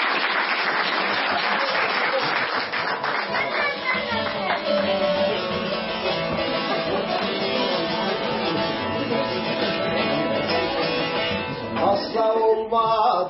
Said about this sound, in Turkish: Sayın Ağırcade reisimize bir alkış vuralım.